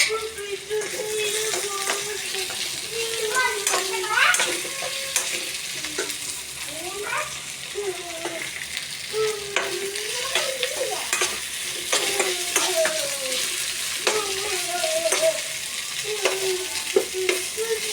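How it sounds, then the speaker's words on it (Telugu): Boiled potatoes and onions fry in a pan with a steady sizzle, broken by repeated scraping stirs of a spatula, while a faint voice sits in the background. "బాయిల్ చేసిన పొటాటో అంతా మొత్తం దీనిలో ఫ్రై చేయాలి"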